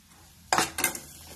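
A spoon scrapes and clatters twice against a pan as a small amount of besan flour is stirred into a roasted mixture, loud and close after a quiet start.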